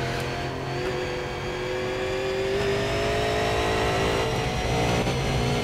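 Super Late Model race car in the iRacing sim held at full throttle around Concord, a loud steady engine drone with rising harmonic pitch, continuous and close throughout, no talking.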